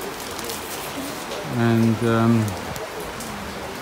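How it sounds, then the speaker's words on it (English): Heavy, warm summer rain with large drops falls during a boat trip to Solothurn, Switzerland, as a steady, dense hiss. A voice briefly speaks over it. "it's actually quite warm rain and quite refreshing really"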